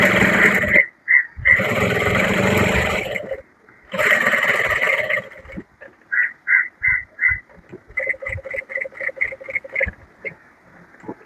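A sewing machine stitches the V neckline of a box-pleat nighty in short, rapid bursts of clattering stitches, loud and close, with pauses between runs and no talking.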